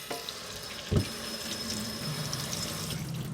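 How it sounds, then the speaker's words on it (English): Blackberries being rinsed under a running kitchen tap, a steady close stream of water splashing into a sink with one brief knock partway through and no speech. "is rinse your berries. Make sure you just get out any dirt that's on them."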